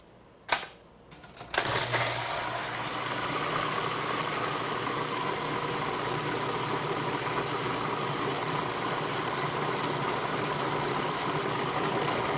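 A machine churning cream into butter runs as a steady, loud mechanical whir with a motor drone, starting after a couple of sharp clicks and holding constant to the end with no talk.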